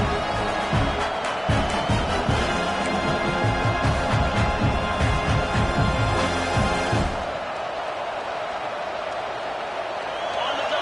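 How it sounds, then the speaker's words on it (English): Late in an Oklahoma versus Tennessee football game, a stadium crowd roars loudly and continuously, then the roar drops back to a lower background murmur partway through. "the crowd really making some noise now, trying to help out this defense"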